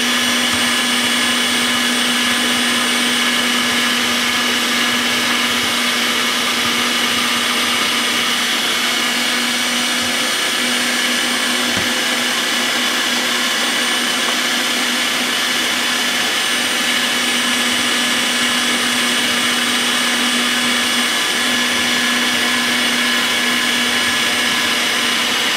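A sausage stuffer drones steadily while pushing bratwurst into casing, a loud continuous motor whine with a constant pitch that runs unbroken throughout, no voices.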